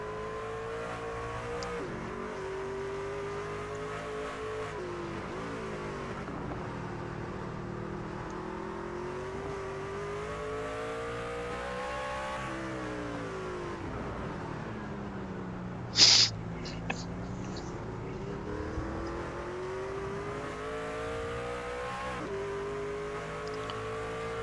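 NASCAR trucks racing around an oval track, a continuous droning engine roar rising and falling in pitch as they pass, steady and loud with no voices.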